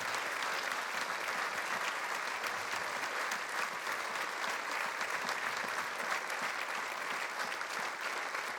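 Sustained, dense applause from a theatre audience for the performing team, many hands clapping steadily and evenly at a fairly loud level throughout.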